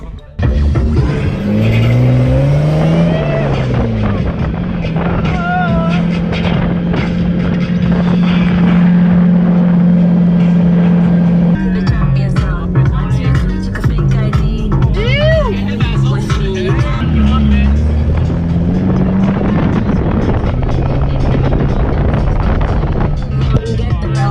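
Vehicle driving off over Bribie Island terrain, a loud close engine revving and shifting through gears with wind buffeting the microphone, while voices talk over it.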